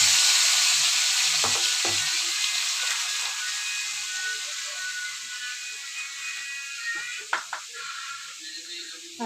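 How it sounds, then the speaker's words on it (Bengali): Potatoes fry in oil with a hissing sizzle that is loud at first and slowly fades, broken by a few clatters of stirring, and there is no clear speech. "আলু ভাজা তেলের মধ্যে হয়ে যাচ্ছে।"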